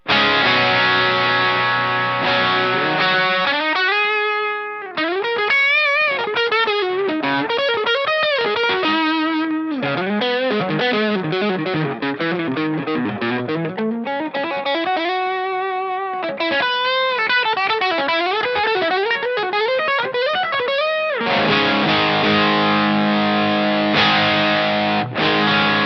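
A Stratocaster electric guitar on its bridge pickup plays through heavy distortion: sustained chords, then a bending, gliding lead line, then ringing chords again, loud and close, with no talking.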